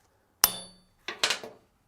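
A hammer strikes a 22 lb Acciaio anvil: one sharp ringing hit with a brief sustained chime, then a quick cluster of three lighter taps, close and loud with no voices.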